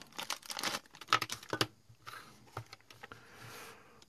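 Crinkling and rustling of a bubble mailing envelope as it is handled, soft irregular crackles and taps up close, with no talking.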